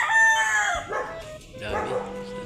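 A rooster crows in a home yard beside a flowering mango tree, with a long harmonic call early on and a second crow later, loud and close, over faint background voices.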